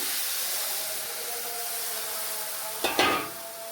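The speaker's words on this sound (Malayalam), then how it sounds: "ശകലം വെള്ളം ചേർത്ത് കൊടുക്കാം" Masala and tomato sizzle softly in a pan, then a splash of water hits the hot mix with a brief burst of hissing steam near the end.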